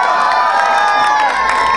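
At a town fiesta, a crowd cheers and shouts loudly, with high whoops and children's voices layered over a dense roar; no distinct claps stand out.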